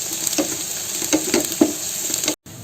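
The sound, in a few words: onion frying in tempering with cumin, fennel, fenugreek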